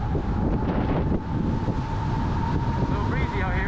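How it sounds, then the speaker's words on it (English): Strong wind buffeting the microphone while riding a 3000-watt Project Flash electric bike outdoors, a constant loud low roar with faint speech mixed underneath. "A little breezy out here."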